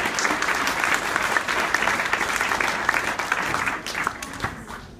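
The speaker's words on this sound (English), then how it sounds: "so we can applaud for them even though they're not doing it." A crowd of parents claps for the beginning violin group at a fourth-grade orchestra concert, a dense steady round of applause that starts to thin and fade toward the end.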